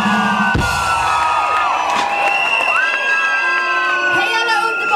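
A large crowd of graduating students at a student graduation celebration in Östersund cheers loudly, with shouts, whoops and high screams layered over dense clapping and crowd noise, sustained and close throughout.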